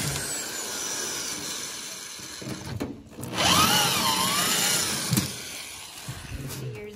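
A power drill whirs for a couple of seconds, its pitch rising and falling, as it drives screws out of the heater core of a 1989 Crown Super Coach bus, amid a steady background hum and small clunks.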